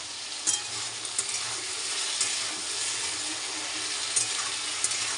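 Chow mein with potatoes sizzles and fries in a pan while being stirred, a dense steady hiss with light scraping clicks throughout.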